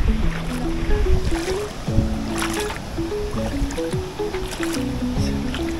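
Rushing waterfall water flows where two streams merge, with a loud, constant roar and splash, close by, with no break.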